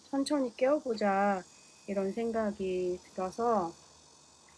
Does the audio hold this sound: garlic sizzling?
no